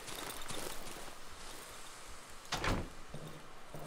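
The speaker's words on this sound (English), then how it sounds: "close the door on myself" A door is shut in the video game Darkwood. One sharp knock-like thud stands out against quiet, rustling ambience, with a few faint softer knocks around it.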